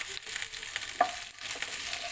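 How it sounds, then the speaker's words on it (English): Okra sautés in about two tablespoons of oil in a pan for an Indian okra masala, giving a steady close sizzle and crackle with a small clink partway through. "And then we have first to saute our okra."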